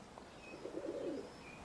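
Roller pigeons cooing down on a roof, a brief soft coo heard faint and somewhat distant over quiet outdoor background, with a few faint chirps.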